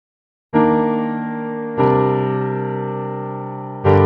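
Three sustained piano chords from FL Studio Mobile, mixed with EQ and reverb, each struck cleanly and left ringing into a smooth decaying tail, loud and alone.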